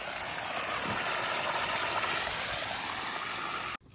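An electric water pump runs with a steady, loud rush as water pours into a flooded duck impoundment, a continuous broadband roar that cuts off abruptly near the end.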